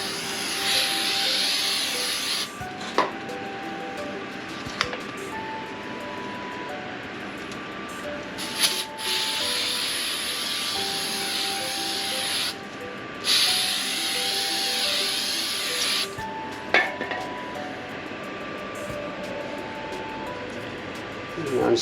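Brake cleaner sprayed onto the rear brake parts of a Honda Civic Si, a loud hissing spray in several long bursts separated by brief pauses.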